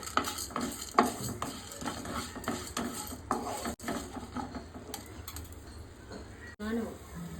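Urad dal, moong dal and coriander seeds fry in a pan while a spoon stirs them, with repeated scraping and clinking strokes over a soft sizzle, and a voice faintly in the background.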